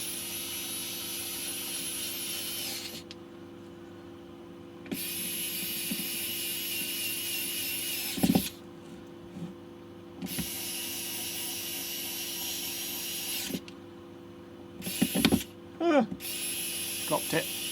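Suntour HESC e-bike hub motor running during a clutch test with the unit opened up, a high, whirring buzz in several separate bursts broken by pauses and small clicks and knocks of handling.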